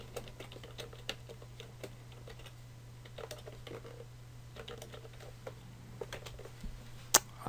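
Quiet, close typing on a computer keyboard: irregular light key clicks with occasional sharper taps over a low steady hum, no talking.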